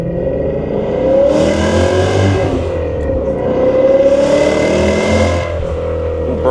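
A 2000 BMW E39 M5's V8 engine pulls hard on an open road, revving up twice in strong, steady surges with rising pitch, loud and close from inside the car.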